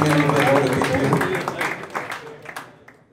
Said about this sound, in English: We could give another round of applause for Mr. Steve Baker, please.